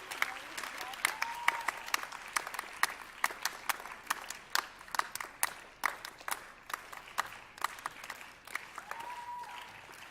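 Crowd applause at a school investiture ceremony, a steady wash of many hands clapping with sharp individual claps standing out throughout, moderately loud and continuous across the whole stretch.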